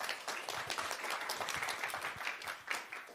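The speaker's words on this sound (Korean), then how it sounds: "열정적으로 강의해주신 김성률 교수님께 다시 한번 박수 부탁드리겠습니다" An audience claps for a professor closing a lecture at an energy study-group event: dense, steady applause with individual claps audible throughout, with no talking over it.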